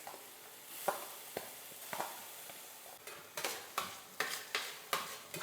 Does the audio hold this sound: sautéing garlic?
yes